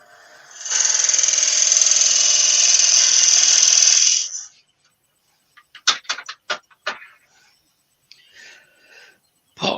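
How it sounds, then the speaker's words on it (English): A power drill fitted with a drill bit bores into firewood, whining loudly for about four seconds before stopping, followed by several sharp knocks and clatters of wood being handled. "I could do it with a drill bit, couldn't I?"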